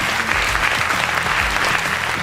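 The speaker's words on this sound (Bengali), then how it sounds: "মাহিরের জন্য একটা জোরে করতালি।" A quiz show audience claps loudly for a student contestant, steady and continuous applause with no break, close and filling the whole moment.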